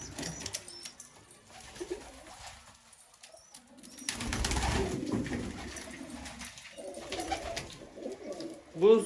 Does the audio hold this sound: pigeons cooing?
yes